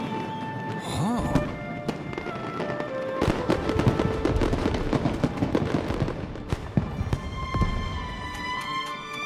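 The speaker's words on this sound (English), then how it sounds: "Fireworks show?" Fireworks pop and crackle in quick bursts in Genshin Impact, with booming thuds and sparkling crackles layered over a busy background of game music and sounds.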